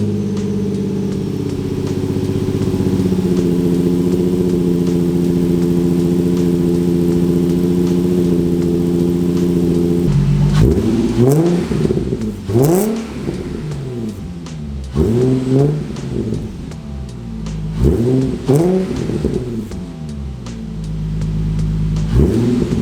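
A Nissan/Infiniti VQ engine with resonated test pipes, its intake removed, idles loudly, then blips through several sharp revs that rise and fall in quick succession before settling back to idle.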